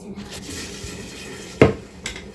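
Plates being handled at home during cake decorating, heard as one sharp ceramic clatter, then a fainter knock, over a quiet room hum.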